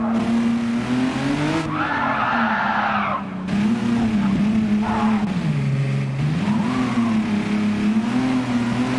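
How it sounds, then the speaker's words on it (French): A Xiaomi SU7 electric car in Gran Turismo 7 runs continuously on the Nürburgring Grand Prix circuit, with a steady loud motor whine that rises and falls in pitch through corners and brief tire squeal, close and unbroken throughout. "on va tester l'Axiom SU7 sur le Nürburgring"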